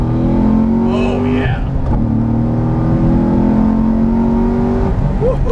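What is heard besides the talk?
sports car engine accelerating hard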